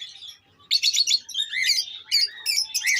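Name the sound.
cockatiel chicks chirping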